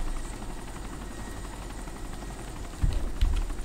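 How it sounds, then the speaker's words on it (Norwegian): A helicopter in the video game DayZ drones steadily with a low rotor rumble, holding at a constant level before two short, louder thumps near the end. "Helikopter lokker til seg alle zombiene."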